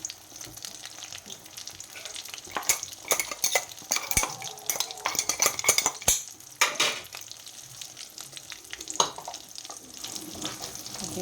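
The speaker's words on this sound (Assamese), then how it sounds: "বগৰীখিনি দিয়াৰ পিছত মই ইয়াতে এই মছলাখিনি গোটেইখিনি মিক্স কৰি দিম।" Spices stirred into a jujube pickle in a pan, with steady frying sizzle under repeated scraping and clinking of a spoon against the metal pan, close and continuous, no talk.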